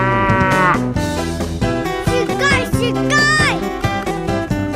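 A child's toy cow gives a long synthetic moo with electronic musical tones, loud and continuous over roughly five seconds, with a few bright warbling chirps partway through.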